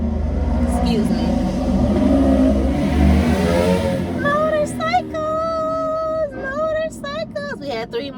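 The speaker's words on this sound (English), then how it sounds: "Motorcycles. We had 3 motorcycles." Motorcycles passing, a loud, close engine rumble and revving that dominates at first, then a person talking over the fading engine noise.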